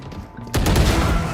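Dense Apex Legends gunfire erupts halfway through, a loud continuous burst of rapid shots and booms following a quieter stretch of game ambience.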